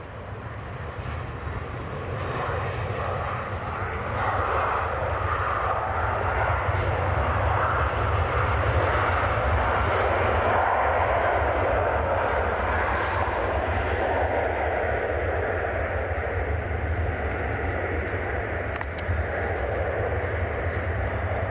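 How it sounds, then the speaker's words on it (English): Ryanair airliner arriving from Dublin touching down at Manchester Airport, a sustained broad jet roar rumbling steadily at moderate distance throughout. "So this is Ryanair, just about to touch down."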